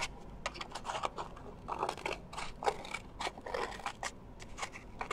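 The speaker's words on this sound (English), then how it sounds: "we are going to cut all around that plate" Scissors snip repeatedly around a paper plate, a quick series of close, crisp crunching cuts in an uneven rhythm with no talking.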